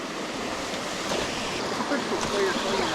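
A tiny creek flows near waterfalls, a steady, fairly loud rush of water that swells a little toward the end.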